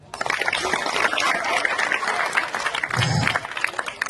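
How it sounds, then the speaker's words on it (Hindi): Audience applauding after a street play on road and railway safety awareness, steady crowd clapping throughout at moderate distance, with a brief low thump near the end. "नाटक अच्छा लगा तो आप तालियां बजा दो।"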